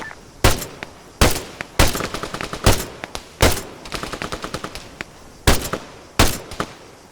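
Rifle and machine-gun fire in the ARMA 3 military shooter crackles in loud, sharp bursts, several separate volleys of rapid shots spaced a second or so apart, with no talking.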